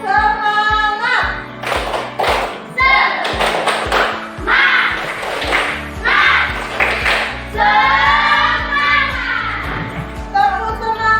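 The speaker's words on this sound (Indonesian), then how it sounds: "kita main tepuk dulu. Ya, tepuk semangat." Children perform a rhythmic spirit-clapping game in a classroom, sharp claps and taps falling in quick patterned bursts while voices chant and speak between them.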